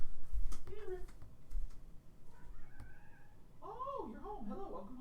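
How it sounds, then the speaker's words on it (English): A pet cat meows repeatedly and loudly nearby, with rising and falling wails that grow more insistent toward the end, mixed with a few knocks and faint background sound. "My cat's meowing like an insane person."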